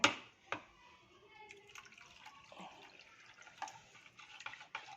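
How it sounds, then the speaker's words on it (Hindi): Water poured into thick plain yogurt for chana chaat, a soft watery splash and stirring with a few sharp clinks from a utensil against the bowl, close by and with no talk. "दही बहुत ज़्यादा गाढ़ा था, इसीलिए मुझे इसमें पानी डालना पड़ा।"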